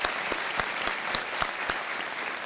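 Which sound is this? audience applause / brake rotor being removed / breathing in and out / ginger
audience applause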